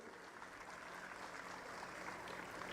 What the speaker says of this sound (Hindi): तो एक बार मुकेश जी के लिए तालियां बजा दीजिए जोर से